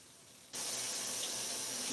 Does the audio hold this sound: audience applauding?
no